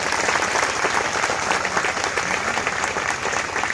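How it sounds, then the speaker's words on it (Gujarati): A congregation at the 24th annual church convention claps together in a continuous, even round of applause, full and close, with no clear talk over it. "તો બધાના માટે ફરી આપણે તાળીઓ વગાડીશું."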